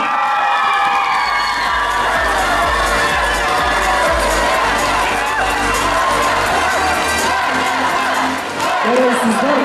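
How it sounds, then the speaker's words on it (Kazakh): A gala concert crowd cheers and shouts for the biology and geography faculty, a loud continuous roar of voices with whoops and some clapping that dips briefly near the end. "биология, география факультетін шапалақ"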